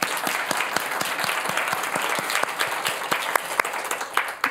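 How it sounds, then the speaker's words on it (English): A conference audience at a talk on antimicrobial resistance breaks into applause, a steady patter of many hands clapping at moderate loudness from a distance, continuing evenly without voices. "I think that deserves a round of applause"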